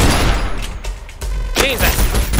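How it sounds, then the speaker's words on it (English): Gunfire from the co-op shooter game Synthetik, a dense loud burst of shots and thuds running nearly throughout, with a brief dip partway and a voice faintly in the mix. "I'm firing at ya."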